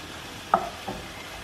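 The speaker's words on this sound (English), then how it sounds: "we're just browning the ground meat" Ground meat with peppers, onions and parsley browns in a pan, giving a soft steady sizzle broken by a sharp utensil clink and a fainter second tap.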